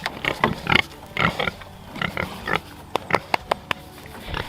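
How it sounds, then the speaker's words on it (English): Several big pigs grunt and snuffle close by at a farm fence, in uneven bursts of short, rough grunts and a few sharper clicks, with no talking. "Now these pigs I'm okay with petting over the fence"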